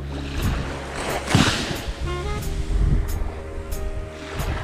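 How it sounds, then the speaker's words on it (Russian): Sea waves rolling onto a winter beach at Vityazevo, a steady broad wash of surf with a soft swell partway through, continuous and without speech. "Какой тут звук волны прикольный"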